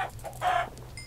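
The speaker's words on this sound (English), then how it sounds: "there's chickens, sweet" A Minecraft chicken gives a couple of short, close clucks, then a brief high chirpy tone near the end, with no talk over it.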